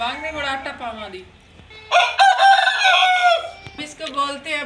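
A rooster crows at a rural household in Pakistan, one long loud call standing alone in the middle, with people talking before and after it.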